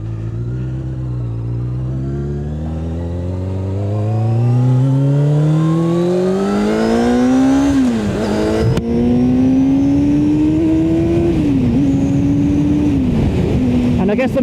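A sport bike pulls away on the road and accelerates hard, its engine note climbing loud and close through several gear changes, the revs dipping briefly at each shift before rising again.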